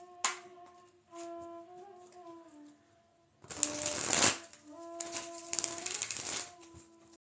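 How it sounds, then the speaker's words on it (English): A deck of tarot cards is handled and shuffled close up. Soft clicks and tonal hums come first, then two loud bursts of riffling card flutter, each lasting about a second, with quiet gaps between them. "Shuffle these cards."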